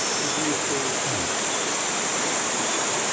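A waterfall on Seongchisan Mountain in Geumsan, South Chungcheong, South Korea roars in a steady, broadband rush of falling water, constant and loud throughout with no breaks.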